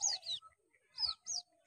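A white-breasted waterhen chick found in jungle undergrowth gives four thin, high chirps in two quick pairs separated by a short pause, faint and close with no talk.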